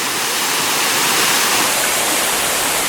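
Tuk Tuk Falls, a waterfall in Siargao, roars as a dense, loud, steady wash of rushing water close by, unbroken throughout with no voices.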